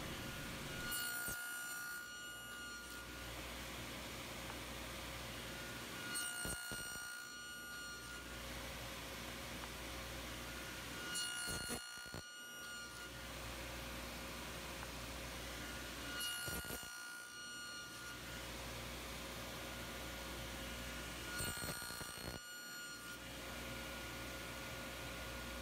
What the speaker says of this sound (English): So the proper technique to cut the slots on the mating piece is to reverse the first piece, put that in the jig